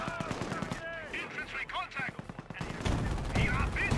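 Gunfire from a 222 armored car in the Company of Heroes game, rapid bursts of machine-gun fire mixed with other battle noise, under someone talking over much of it.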